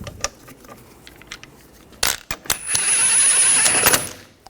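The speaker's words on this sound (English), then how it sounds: "Put the wheel on. Get the lug nuts started." Lug nuts being threaded and run down onto a rear wheel of a 2013-2019 Ford Escape, with metallic clicks and a sustained ratcheting whir near the end, close and fairly loud.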